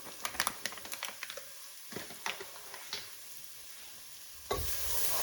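Ground spices including ginger powder are stirred over onions in a frying pan, with soft scraping and clicking strokes under a faint sizzle, then a louder burst of frying near the end.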